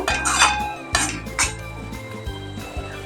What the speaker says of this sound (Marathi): आता हे मसाले पुन्हा आपण भाजून घेऊया